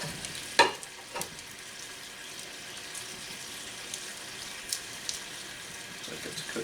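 Lean venison sirloin steaks frying in ale in a pan, giving a steady low crackling sizzle with a few sharper pops and stirring clinks, fairly quiet and without talk.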